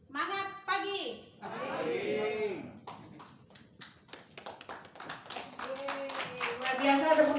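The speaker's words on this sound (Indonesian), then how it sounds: "tepuk tangan sekali lagi Kapten Santi ya" An audience claps for Captain Santi at an Indonesian Crowd1 seminar, scattered taps building into a steadier round of clapping near the end, with a speaker's voice heard over the start.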